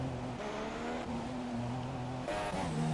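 An F1 2017 race car on a wet Brazilian Grand Prix circuit in the video game, its engine droning steadily at mid distance as the tyres lose grip and slide, with pitch shifting through the run.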